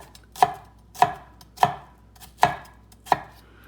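A knife chops garlic on a cutting board in five sharp, evenly spaced strikes, close and clear, with quiet gaps between them and no voices.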